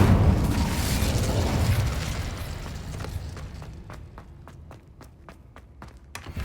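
An Incendio fire spell in Hogwarts Legacy bursts into a loud whooshing roar of flame that fades over several seconds, followed by a steady series of crisp footsteps.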